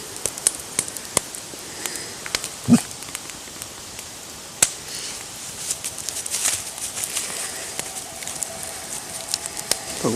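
A campfire by a river in cold weather crackles with sparse sharp pops and snaps over a steady soft hiss, fairly close, with no voices.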